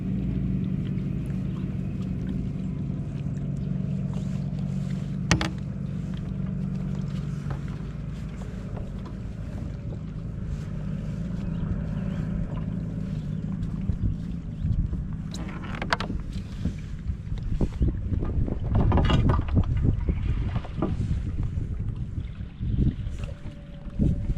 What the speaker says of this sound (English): you can hear the sound of a large vessel leaving the cove